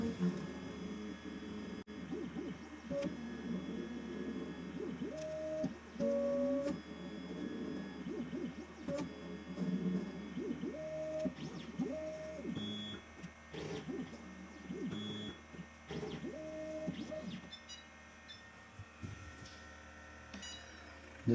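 A Nidek ICE-1 lens tracer probing a mounted demo lens, a steady mechanical whir and hum with rising and falling motor tones and small clicks as the stylus traces the shape, close and moderate in level.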